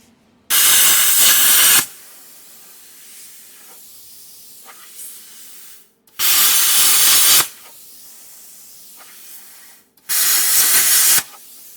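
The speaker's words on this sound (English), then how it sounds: "I'm going to take the plasma cutter and hit each one of these little spot welds" Three loud bursts of harsh, broadband hissing from a plasma cutter cutting spot welds, each lasting over a second, separated by quieter stretches of low shop noise.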